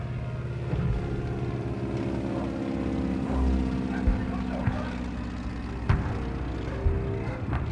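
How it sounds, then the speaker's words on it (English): Propeller plane droning overhead in the 1999 video game Medal of Honor, a low steady engine hum with occasional sharp thuds and distant battle noises under the engine. "The plane sounds overhead,"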